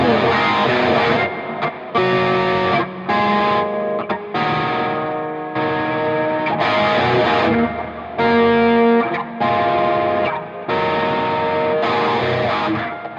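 Electric guitar played through a Catalinbread Dirty Little Secret Deluxe distortion pedal, run straight into an audio interface, rings out loud saturated chords in short bursts with brief pauses between phrases, no talking.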